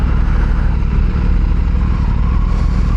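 A steady, loud engine drone from an Aprilia RS457 motorcycle on the move, with wind rushing constantly and no break or voices.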